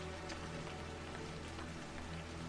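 Steady rain falling in the open, a continuous dense patter on the ground that holds at an even, moderately loud level throughout with no other sounds.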